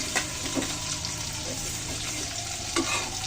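Curry of cauliflower, potato and tomato sizzling in a pan, a soft continuous frying hiss with a few light stirring scrapes, close and steady.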